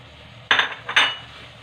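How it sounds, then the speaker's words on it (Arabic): Ingredients are stirred in a bowl with a utensil, two or three quick clinking scrapes against the dish in close succession, crisp and near, with no talking. "نخلطو هكا مزيان"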